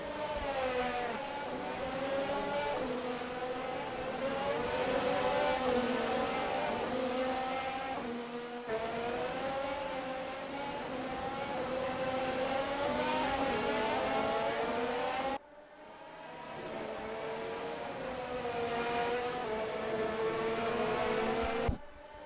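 Race car engines in a sim racing league event at the Ricardo Tormo circuit, a loud, sustained, high-revving whine with rising and falling pitch as gears shift, continuing without break throughout.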